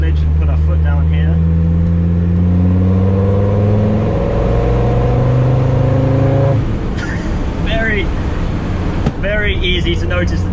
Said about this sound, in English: hopefully you can hear that exhaust as well